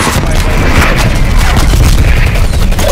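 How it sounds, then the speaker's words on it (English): Artillery strike explosions in Call of Duty: Black Ops Cold War, a loud continuous rumbling barrage of booms filling the whole stretch with dense low-end roar, no talk. "Artillery targeting detected."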